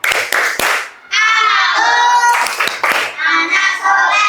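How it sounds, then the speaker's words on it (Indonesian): A group of children claps in rhythm while chanting the Islamic Tepuk Anak Soleh clap chant during a classroom religious lesson, with sharp claps at the start and sung chant lines loud and close. "Yuk kita bersama-sama tepuk anak soleh."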